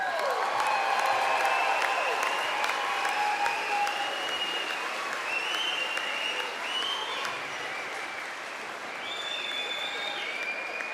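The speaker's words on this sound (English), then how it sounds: "Okay, parents, let's give these kids one more round of applause." Parents at a 2025 Henry Wise Wood high school graduation applaud their graduating students. Dense, loud clapping fills a large hall and fades slightly toward the end, with faint whistles and crowd noise mixed in.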